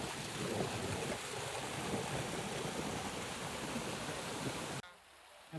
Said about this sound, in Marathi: वॉटरफॉलची मजा नमः शिवाय.